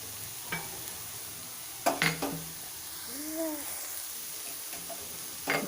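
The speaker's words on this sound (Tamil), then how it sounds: "சேர்த்துட்டு இது கொஞ்சம் மிக்ஸ் பண்ணி வச்சுக்கலாம்" Vegetables and fried rice masala are stirred in a pan over a faint background sizzle, with a few sharp spoon scrapes and knocks against the pan, one cluster of taps near the middle.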